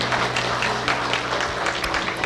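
Church congregation applauding during a Sunday service in a remodeled Korean Holiness church, a steady wash of many hands clapping together at moderate loudness across the whole stretch.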